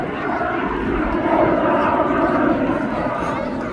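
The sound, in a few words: jet aircraft with Rolls-Royce Viper 202 engine at airshow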